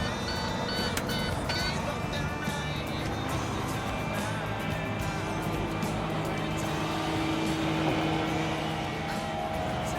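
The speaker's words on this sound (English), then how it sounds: "We're turning this blower on in here, which creates the air for unloading the material" A truck's PTO-driven blower, run off the transmission to make air for unloading material, roars in a loud, steady, engine-like drone that holds throughout.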